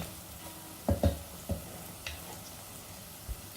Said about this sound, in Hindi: कुछ देर तक मसाला को भून लेते हैं।